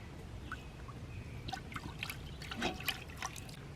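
Old apple cider vinegar poured into a cast iron pan, soft splashing and dripping liquid with a brief fuller trickle in the middle, quiet and close with no voices.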